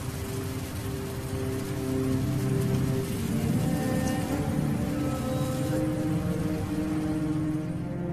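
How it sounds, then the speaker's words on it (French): Heavy rain at the start of the rainy season pours down in a steady, dense hiss of drops hitting the ground, constant and enveloping, with no voices. "C'est le début de la saison des pluies. Elle tombe maintenant en un continuel déluge"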